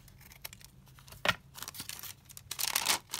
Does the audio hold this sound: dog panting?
no